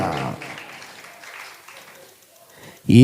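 A congregation claps in praise of God during a Telugu Christian sermon, the applause a steady broadband patter that slowly thins and fades before a voice cuts in at the very end.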